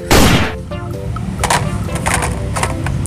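A toy sniper rifle fires a single sharp electronic gunshot effect loudly, followed by a short mechanical reload rattle and scattered clicks.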